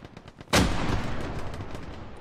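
Gunfire in the World War II shooter Hell Let Loose: a sudden close, loud shot bursts out, followed by a sustained roar of distant rifle and machine-gun fire rolling on.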